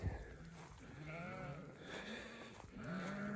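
Sheep bleat in a spring pasture, several wavering calls close by and one after another, with soft outdoor background.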